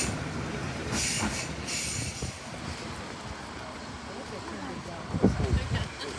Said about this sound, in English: as soon as the train arrives into the station